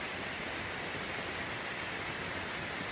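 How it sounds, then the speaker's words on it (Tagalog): Heavy rain on a farm, a loud, dense and unbroken hiss that fills the space evenly and steadily from start to finish with no voices. "Nagising ako kasi ang lakas ng ulan."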